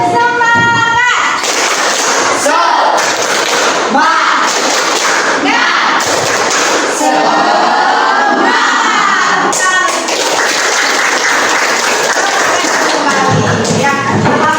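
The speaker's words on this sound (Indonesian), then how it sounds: "Kita tepuk semangat dulu." Classroom students perform a rhythmic spirit clap, with bursts of group clapping and thumping alternating with loud shouted chanting from the class across the whole stretch.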